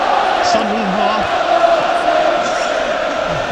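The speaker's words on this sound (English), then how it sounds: "Listen to the crowd." Sunderland v Chelsea football stadium crowd late in a tight match, a loud, continuous roar and murmur filling the ground with scattered shouts rising above it, while a commentator talks over the noise.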